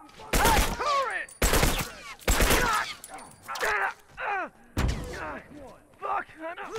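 Bursts of automated turret gunfire in the video game The Last of Us, loud rapid volleys in several separate clusters, interleaved with sharp shouting voices.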